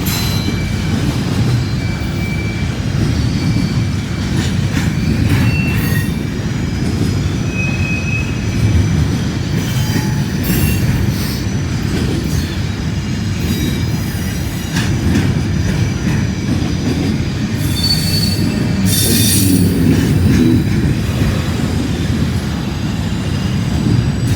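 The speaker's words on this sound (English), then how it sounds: "Got another train, another intermodal." Intermodal freight train rolling past close by for a long stretch, with a loud continuous rumble of rail cars, rhythmic wheel clatter and recurring high metallic squeals from the wheels.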